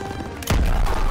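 A grenade explodes in Call of Duty WW2: a quiet stretch, then a sudden loud boom that rolls into a sustained heavy rumble, close and alone without voices.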